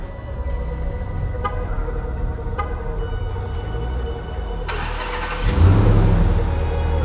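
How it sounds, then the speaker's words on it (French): A RAM TRX pickup with over 700 hp is started with the key: a steady idle-like rumble with faint clicks, then a sharp catch and a louder, deeper engine roar as it fires up, close by. "On va pouvoir se faire un petit démarrage à la clé."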